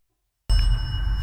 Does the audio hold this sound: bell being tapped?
yes